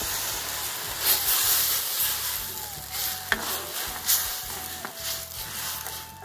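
Home-ground spices frying in a pan over a fierce wood-fired hill-style clay stove, a steady loud sizzle with repeated scraping stirs and sharp utensil clinks, no voices.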